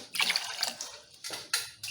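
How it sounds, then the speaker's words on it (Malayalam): A quarter glass of water is poured into a pot in a few short splashing bursts, close and fairly quiet. "ഇതാ ഒരു 1/4 ഗ്ലാസ് വെള്ളം കൂടെ ഒഴിക്കാൻ പോവാണ്."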